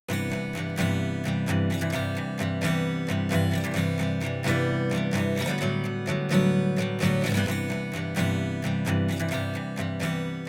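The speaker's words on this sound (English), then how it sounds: "like for example, an acoustic guitar like this" A single acoustic guitar plays a continuous strummed and picked passage, bright and close, with steady rhythmic attacks and nothing else in the mix.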